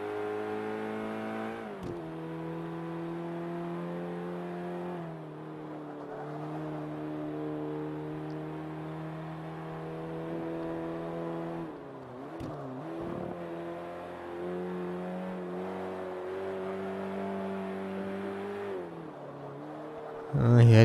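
A Renault Megane in Forza Motorsport 5 accelerates out of a banked corner on a racing circuit. The engine hums and revs steadily, shifting gears through several rising pitches, with someone talking over it.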